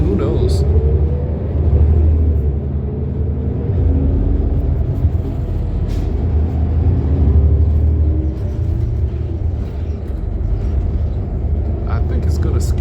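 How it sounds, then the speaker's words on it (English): Interior of a Yankee Bus Lines shuttle bus replacing the Green Line C branch between Kenmore and Cleveland Circle: a loud, continuous engine and road rumble fills the cabin, with a person talking over it throughout. "On the bus."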